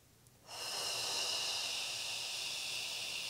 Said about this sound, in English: We're going to do 8 very deep breaths.